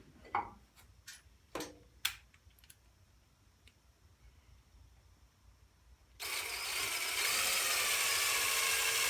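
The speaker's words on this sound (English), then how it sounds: "Again, we got that pre-drilling action going on right now." A few sharp ticks and clicks, then a power drill starts pre-drilling for a screw, giving a loud, steady, close whine that runs to the end without stopping.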